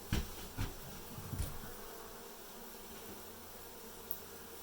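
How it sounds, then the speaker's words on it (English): A colony of honey bees hums continuously during a cutout in Dorrance, Kansas, a close, even buzz with a few sharp bumps near the start. "I think we just need to scoop some bees out and check."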